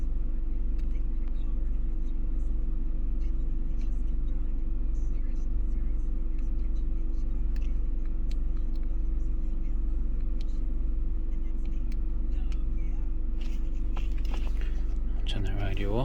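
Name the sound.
Peugeot 207cc engine running with slight misfires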